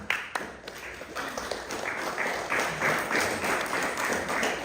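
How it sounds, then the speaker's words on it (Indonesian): Wedding guests at a ceremony in a Tongkonan house in Ulusalu clap for the newlyweds, producing a steady patter of applause from a moderate crowd. "Mari tepuk tangan untuk pasangan baru ini."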